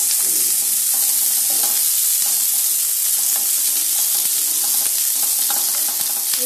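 Chicken manchurian being stir-fried over a high flame, with a steady loud sizzle broken by repeated scraping and clanking of a spatula against the pan, continuous and close.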